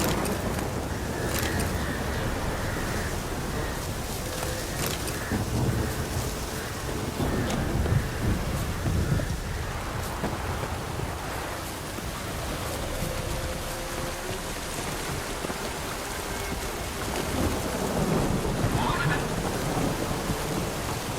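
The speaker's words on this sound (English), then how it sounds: "The storm, damn it." A thunderstorm rolls through The Witcher 3 video game: steady rain hisses and wind roars throughout, with low rumbles of thunder swelling now and then under the dense, continuous wash.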